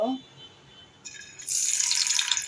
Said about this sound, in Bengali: তো এখন আমি চাল কুমড়োটাকে ভেজে নেব